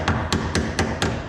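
Five evenly spaced hammer blows on a stuck bolt on a 1958 VW Beetle chassis pan during restoration, sharp metallic knocks about a quarter second apart, loud and close with no talking.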